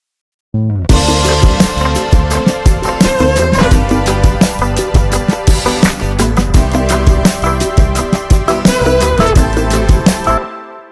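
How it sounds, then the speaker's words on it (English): A stacked Moog Muse synth lead, widened with H3000 stereo chorusing, plays a busy 80s-pop line inside a loud, dense mix with rhythmic accents throughout, no voices. "this one's got H3000 on it to give it some stereo width and some chorusing"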